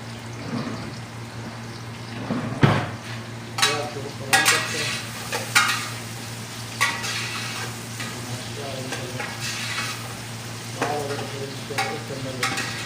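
Chopped onions with a pinch of salt fry in a pan and are stirred slowly. Several distinct scrapes and clanks sound over a steady sizzle, with a low background hum throughout and no talk.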